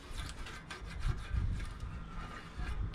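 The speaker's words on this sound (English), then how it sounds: "in this case, we just need a razor blade" A razor blade scrapes old gasket residue from the transmission pan of a 2013 Toyota Corolla, giving a steady rough rasping with short repeated strokes, close and fairly quiet.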